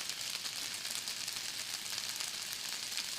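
Onions sizzle steadily in a hot pan while being cooked for white chicken chili, a soft, even frying hiss that holds at a low level throughout with no talk over it.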